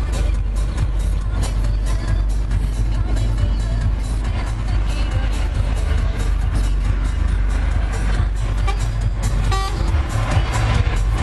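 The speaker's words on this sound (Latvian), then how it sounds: "Kurš pīpina?" A truck horn honks amid loud, steady road and engine noise on a highway, with a brief toot standing out near the end over the rumble of passing traffic.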